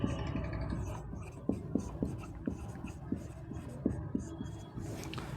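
Pen or marker writing by hand in a classroom-style maths lesson, a steady series of short scratchy strokes and taps close by, with no voices.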